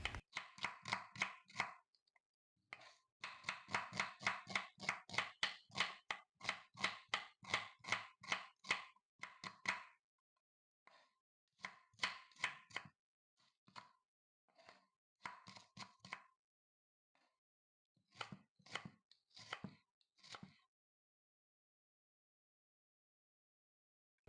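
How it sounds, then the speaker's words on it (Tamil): A knife chopping onions rapidly on a cutting board, quick crisp taps in fast runs, slowing to sparse bursts and pauses near the end. "வெங்காயத்தை சின்னதாக நறுக்கிக்குங்க."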